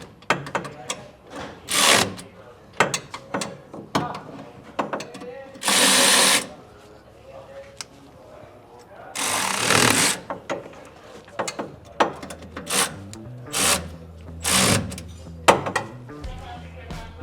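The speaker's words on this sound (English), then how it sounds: "Then tighten down all 4 of the remaining bolts." Bolts on a Torklift ApexAnchor hitch receiver are tightened, with repeated bursts of ratcheting clicks and loud, buzzing power-tool runs in uneven spurts, close by and separated by short pauses.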